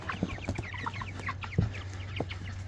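Broiler chickens being moved onto grass pasture on a homestead cluck and chirp busily together at close range, with scattered short calls over a steady low hum.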